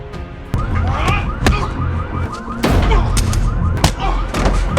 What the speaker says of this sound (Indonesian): dikejutkan dengan suara alarm mobilnya